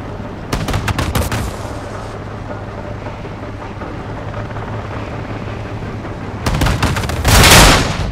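Automatic gunfire in Call of Duty: Modern Warfare II comes in rapid bursts at the start, falls to a quieter stretch of combat ambience, then returns near the end as bursts with a rushing blast.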